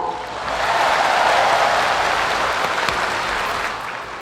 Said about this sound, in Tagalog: palakpak kung pwede